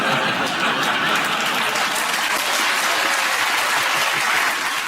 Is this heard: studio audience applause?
yes